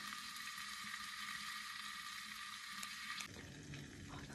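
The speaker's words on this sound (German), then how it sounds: "Aber jetzt brutzelt schon. Ich denke, ihr könnt es hören," Currywurst sausage sizzling as it fries in a pot, a steady, close crackling hiss that shifts partway through as the contents are stirred or moved.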